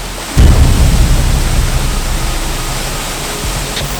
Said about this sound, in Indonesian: Suara tumpahan airnya tuh terdengar keras dan jelas banget deh.